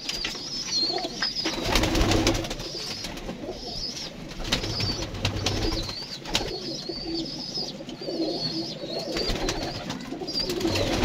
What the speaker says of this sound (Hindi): आपको शौक़ करवाते हैं रेड आइज कबूतरों का माशाल्लाह